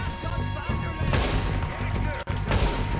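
Rapid bursts of gunfire from a Red Dead Redemption 2 shootout, dense and loud throughout with short gaps, a brief drop near the end, then more shots over game music.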